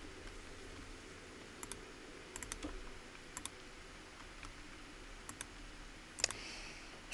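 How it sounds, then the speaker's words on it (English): Sparse, faint mouse clicks on a computer set up with VirtualBox and Windows Server 2016, arriving singly and in small pairs over a quiet background hum with no talking. "I'm just going to click accept for now."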